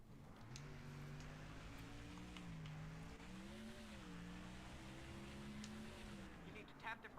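A race car engine in the NASCAR Thunder 2004 video game drones steadily, its pitch rising and dipping smoothly over several seconds under low, faint talk.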